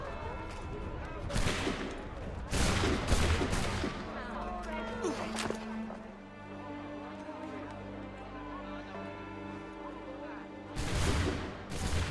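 Musket volleys ring out in Assassin's Creed III, with loud sharp fusillades early and again near the end, while voices speak over a sustained music bed in between.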